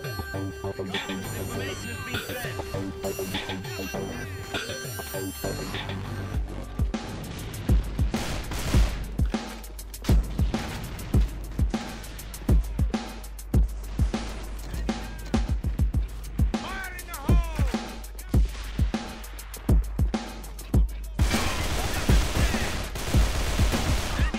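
AK assault rifle firing in the online shooter AVA, with sharp repeated shots in short bursts and single taps that stand out over continuous background music.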